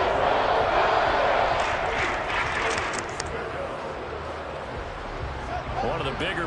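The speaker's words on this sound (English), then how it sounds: "the crowd getting into it as we come up on a big 3rd down" Stadium crowd noise in Madden 23, a loud, sustained roar of cheering fans that swells at the start and stays at a high level throughout, with talk faintly mixed in.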